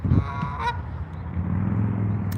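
Geese at a lake honk loudly and nearby in a few sharp calls at the start, followed by a low, steady background rumble.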